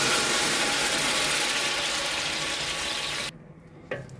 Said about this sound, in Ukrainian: І сяк жарю цибулю, аби вона мало поджарила